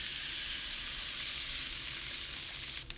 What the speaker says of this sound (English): I'm going to put the fish on the grill skin side down.